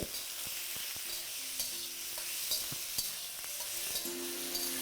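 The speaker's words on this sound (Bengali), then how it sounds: "চিকেনটা কিন্তু আপনাদের একদম হাই ফ্লেমে কুক করতে হবে" Chicken fries in hot oil over a high flame, giving a continuous sizzle with repeated scraping clicks from stirring throughout, close and fairly quiet, with no talking.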